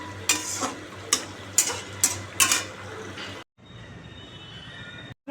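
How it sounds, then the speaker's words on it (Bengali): Cauliflower curry stirred in a pan, with four or five distinct scraping strokes over a steady low sizzle, then a quieter stretch of continuous background frying. "নাড়িয়ে দিই"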